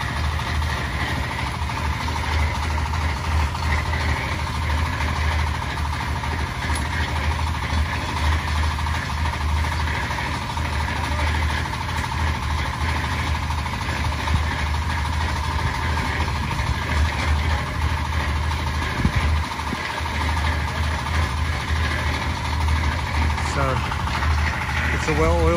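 A concrete vibrator runs continuously against a poured beam on a house building site in Antique, Philippines, a steady loud engine-driven drone with a constant hum that never lets up, mixed with faint site noise.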